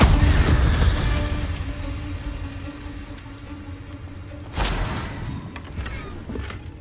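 A Confringo spell blast in Hogwarts Legacy: one sharp, loud burst partway through, over a steady game backdrop with lesser thuds.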